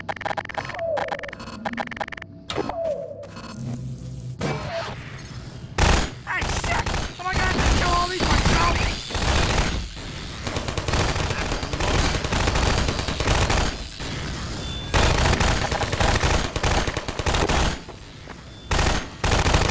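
Automated turrets in Half-Life 2 Episode 2 unleash loud, sustained bursts of rapid gunfire, rattling on and off for most of the stretch after a quieter opening, with heavy impacts and game ambience mixed in.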